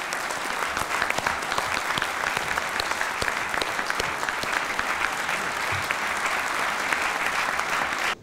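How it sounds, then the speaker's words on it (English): A convention audience applauds pastors and imams with sustained, dense clapping from a large crowd that holds steady for several seconds before stopping abruptly. "Let us give them a round of applause"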